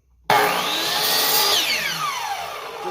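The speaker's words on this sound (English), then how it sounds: "and I'll make a little score cut." A power saw bites into wood for a short score cut, starting abruptly after a moment of silence, loud and close, with a steady whine that shifts pitch midway as the blade works through.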